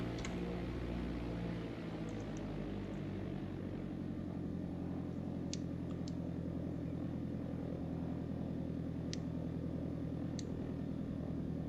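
A Piper Arrow III light aircraft taxis at the airfield with a steady droning engine and propeller hum, constant and fairly faint, with a few sharp clicks over it.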